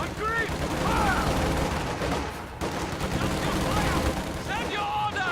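Gunfire in a Company of Heroes 2 battle, with repeated rifle and machine-gun bursts crackling over a dense, rumbling battlefield bed, loud and continuous, while soldier voices call out over the shooting.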